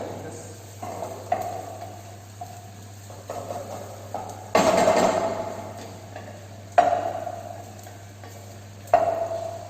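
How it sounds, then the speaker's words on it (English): Green hariyali gravy with browning onion stirred continuously in a pan in a training kitchen, a soft bubbling sizzle punctuated by repeated scraping strokes and occasional louder clatters against the pan sides. "Stir it continuously and check the sides."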